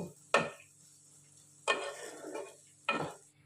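Onion, green chilli and potato being fried in a pan, with three distinct scraping stirs, each bringing a burst of sizzling that fades between strokes, close up with no talking.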